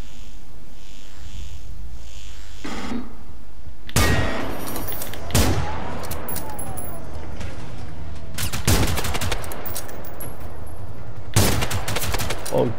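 Slow, widely spaced rifle shots in Generation Zero, several loud sharp cracks spread across the clip, each followed by a short echoing tail over a quiet background.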